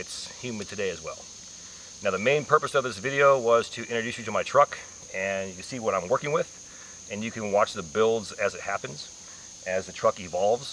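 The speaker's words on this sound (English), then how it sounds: "And you can hear the cicadas right now." Cicadas in the woods at a hot, humid campsite give a steady high-pitched drone in the background while someone talks over it at length.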